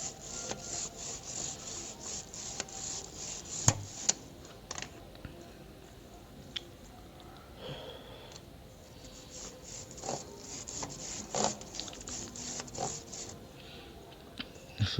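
Bike chain being cleaned by hand, a close, irregular brushing and rubbing scrape with small clicks of the links, moderately quiet and steady throughout, no speech.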